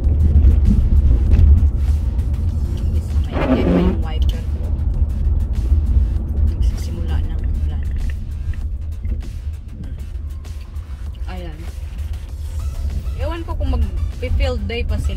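Car driving on a road in the USA, a steady low engine and tyre rumble heard from inside the cabin, with a person talking over it.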